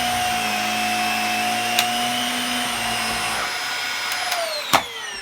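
A Dyson DC50 upright vacuum cleaner runs steadily with its brush roll spinning, a loud close whine with tonal motor harmonics that shift in pitch as the power setting changes, punctuated by a couple of sharp knocks near the end.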